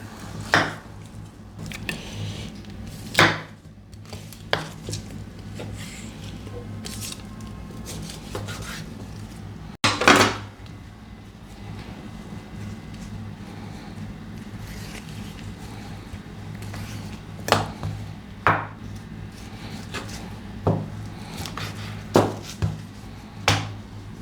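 Sharp, heavy blows of a cleaver chopping meat land at irregular intervals, a few loud and several softer, over a steady low hum in the room.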